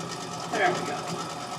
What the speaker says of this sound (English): I'm going to sew it back together again.